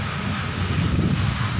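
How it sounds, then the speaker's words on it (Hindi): Strong wind with heavy rain during a storm in Udaipur: a dense, continuous rushing roar buffeting the microphone, loud and close, with no voices. "अभी देखें तेज हवाओं के साथ जोरदार बरसात।"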